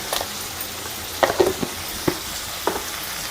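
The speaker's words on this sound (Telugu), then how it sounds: "ఇందులోనే టమోటా వేసుకోవాలి. వేసుకొని బాగా ఫ్రై చేసుకోవాలి" Tomatoes frying in a pan with a steady soft sizzle, broken by a few sharp spoon scrapes and clinks as they are stirred, close up and without talk.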